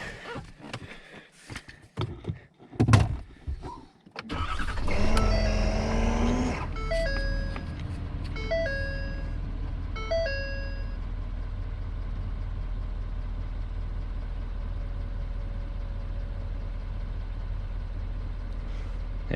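Ford Super Duty pickup with a 6.7 Powerstroke diesel engine cranking and firing up, then settling into a steady, rumbling idle, with some clunks and tonal chimes early on and no talk.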